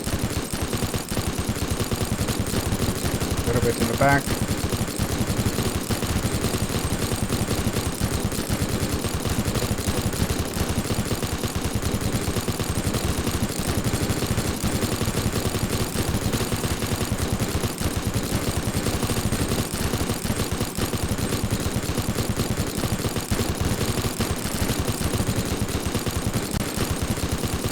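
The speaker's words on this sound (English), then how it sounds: "Let's switch off the minigun." Sustained, dense automatic fire from a minigun in the destruction sandbox game Teardown, a loud continuous rattle of gunfire with heavy clatter throughout, and a brief spoken remark partway through.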